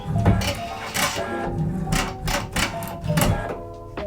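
A Pfaff Creative Icon sewing machine's automatic thread cutter at work, giving a close series of mechanical whirs and clicks in several short bursts.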